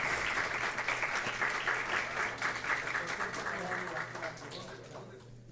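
Steady applause from an audience fills the whole stretch, dense clapping that slowly thins toward the end.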